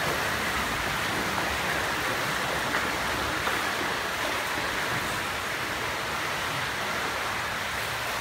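Feet kick at the water surface during a swimming leg-kick drill with a pull buoy, producing a loud, continuous hissing splash that stays steady throughout.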